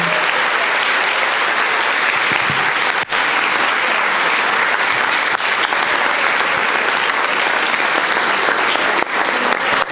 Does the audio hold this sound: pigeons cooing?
no